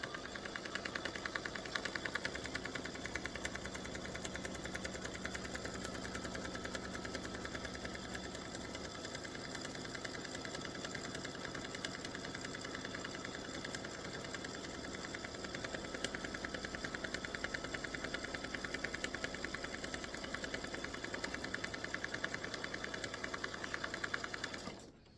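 An embroidery machine stitches a tack-down color stop on an in-the-hoop mug rug side panel, a steady rapid mechanical whir and tapping running near and continuously for about twenty-five seconds without talk.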